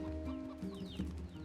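Chicken clucking in NieR Replicant, a few short, soft clucks in a loose rhythm over a steady game backdrop and faint tonal hum.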